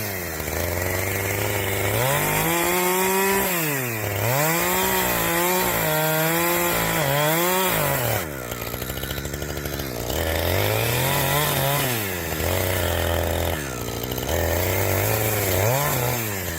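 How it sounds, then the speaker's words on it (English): Large chainsaw cutting through a tree trunk in a forest, its engine revving up and down in repeated surges with a harsh buzzing whine, loud and close, continuous throughout. "The chainsaw roars to life, its engine growling through the forest like a beast awakened."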